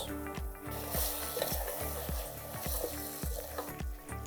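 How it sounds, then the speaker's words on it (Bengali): Meat fries in a pot with spices, cardamom, raisins and dried plums for Lazeeza biryani, a quiet steady sizzle broken by rhythmic scraping spoon strokes about twice a second. "আপনারা এটাকে খুব ভালো করে ভোনা করবেন যেন মাংসটার ভেতরে ফ্লেভারটা ঢুকে যায়"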